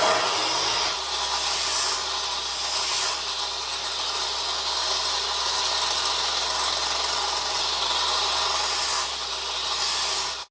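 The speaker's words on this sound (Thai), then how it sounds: "เวลาเจียก็เจียไปจุ่มไปนะผมเพื่อไม่ให้มัน ร้อนจนเกินไป" A bench grinder wheel sharpens a worn twist drill bit, the bit dipped in water between passes to keep it cool: a loud, continuous abrasive grinding rasp with a steady low motor hum underneath, swelling slightly in brief bursts.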